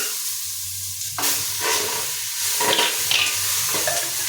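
Mutton hits an AMC cookware pan of hot fried onions and is stirred, a loud close sizzle surging in waves with each scrape and toss, a low hum beneath and no talking.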